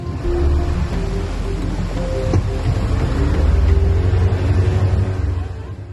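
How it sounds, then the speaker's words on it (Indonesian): Speedboat engine droning steadily amid wind and sea waves, a broad, rushing roar heard close and continuous. "Deru mesin speedboat beradu dengan suara angin dan gelombang laut."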